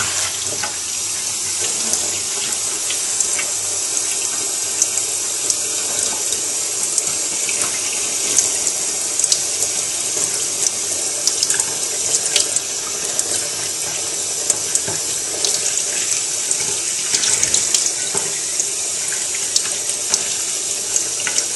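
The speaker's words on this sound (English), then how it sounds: "Always rinse from the clean side out." Running water rinses an oily, dirty motorcycle air filter under a tap, a steady close splashing hiss with small clinks and handling knocks, no voices throughout.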